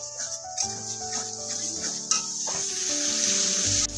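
Spice masala for chana ghugni fries in oil over a very low flame, giving a steady, soft hiss with a few faint stirring scrapes. Sustained tonal sounds run underneath.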